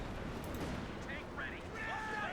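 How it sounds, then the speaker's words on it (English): A Panzerfaust explodes in Company of Heroes 2, a dull, rumbling blast set amid busy battle noise, with chirpy game sounds and a voice talking over it. "that must have been a Faust just now. Yeah, it was a Faust."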